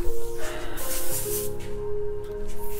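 An airbrush sprays paint onto a T-shirt in short, steady hissing bursts, close by, with a faint tonal hum running underneath.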